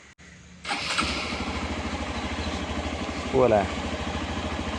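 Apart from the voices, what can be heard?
motorcycle engine starting and idling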